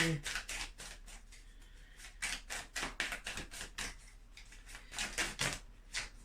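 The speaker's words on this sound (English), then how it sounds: "We're in a sloppy shuffler today" Tarot cards shuffled loosely by hand, a series of crisp riffling flicks and taps in irregular bursts, close and fairly quiet, with no speech.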